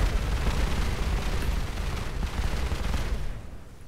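A TNT cannon going off in Minecraft produces a dense, continuous roar of overlapping explosion bursts that stays loud for several seconds and then starts to thin out at the end.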